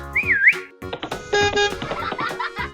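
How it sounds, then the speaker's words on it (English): A cartoon character whistles a short, bright rising-and-falling note, followed by other characters talking and brief tonal sound effects. "Can you teach me to whistle like that?"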